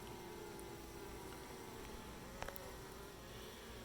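Honeybees hum in a dense, steady buzz at a hive as a new queen is introduced, workers fanning close by with a constant drone and no voices.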